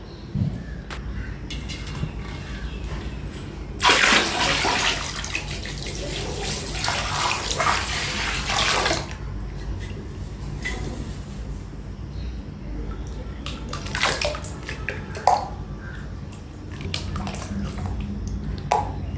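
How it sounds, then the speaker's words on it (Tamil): Five liters of water poured out for a homemade toilet cleaner, heard as a loud, steady gushing splash lasting about five seconds, then quieter trickles and small knocks. "இப்போ அஞ்சு லிட்டர் தண்ணி ஊற்றிக்கிறேன் பாருங்கள்"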